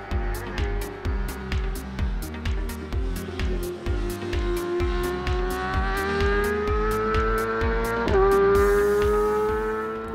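A Yamaha R6 sport motorcycle fitted with a full exhaust system roars steadily and loudly, its pitch climbing as it accelerates, with a brief jump near the end. No voices can be heard over the engine.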